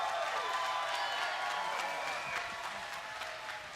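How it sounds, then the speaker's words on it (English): Applause and cheering from an arena crowd for two bare knuckle fighters at a championship event, a dense steady roar of clapping and voices with occasional whistles. "let's have a round of applause for these two warriors"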